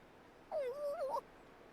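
A short, high, wavering whimper from a small creature in the video game Xenoblade Chronicles: Future Connected, rising and falling for under a second against quiet background.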